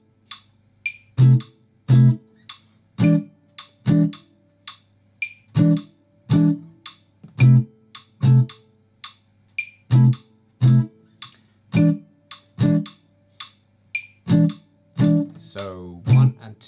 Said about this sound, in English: Against the metronome, it would sound like this.